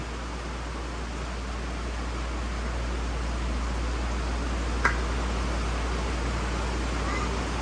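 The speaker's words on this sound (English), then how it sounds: "Excuse the rain." Steady rain pours outside during a Ford Ranger tune-up, an even broadband hiss with a low rumble underneath and one brief click partway through.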